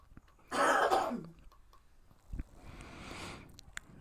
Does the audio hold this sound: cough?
yes